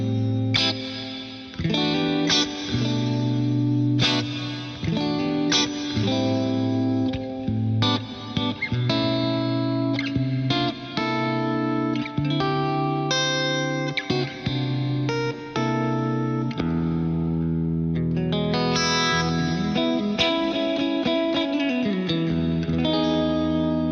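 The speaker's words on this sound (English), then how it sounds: "So it's a decent enough sounding reverb in there." A clean electric guitar plays chords and single notes through a Digitech TSR 24S reverb, with a lush reverb tail, ringing out steadily for the whole stretch with no talking.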